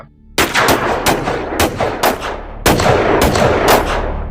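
Repeated gunfire from several guns shooting together in a Thai audio drama jungle ambush on flying creatures, loud close volleys of sharp shots in irregular bursts with no talk.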